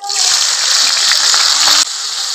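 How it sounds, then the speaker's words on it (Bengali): Chopped onion added to hot oil in a home kitchen: a sudden loud hiss and sizzle that runs steadily for about two seconds, then drops sharply to a quieter frying sizzle. "তো এবার পেঁয়াজ কুচিটা দিয়ে দেবো এর মধ্যে"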